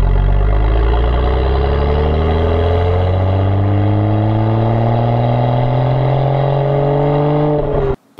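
A BMW exhaust revs up in one long, loud, close sweep, the deep engine note climbing steadily for several seconds before cutting off abruptly.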